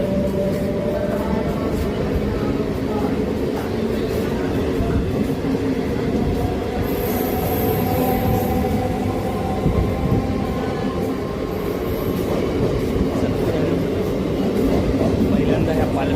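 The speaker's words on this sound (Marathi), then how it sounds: "पहिल्यांदा ह्या पालघरच्या ट्रेनचा आनंद घेतला." Palghar train running on rails, a steady continuous rumble with rattling and clatter throughout, heard from inside or close by, with some faint background speech mixed in.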